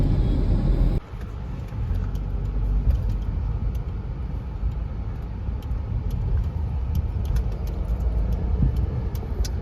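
Cars in a full traffic jam, heard as a loud, continuous low rumble of idling and creeping engines from inside a vehicle, with a brief sharp cut early on and light clicks and taps over it.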